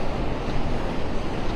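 Strong wind roaring across the microphone with surf breaking on Vanderbilt Beach in North Naples on a windy morning, a dense, steady, loud rush throughout with no voices.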